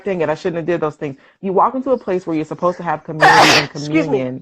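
A single loud sneeze bursts out near the end of a stretch of close conversational talk from one speaker.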